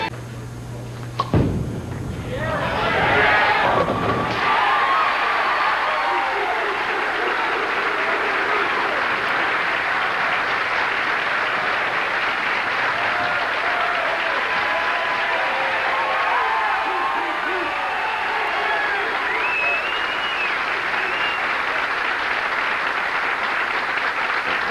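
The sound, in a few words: crowd applauding and cheering at bowling championship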